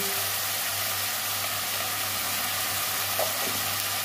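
Spices with chili powder, green chilies and turmeric fry in a pan, giving a constant dense sizzle that holds steady throughout, with only a faint clink near the end.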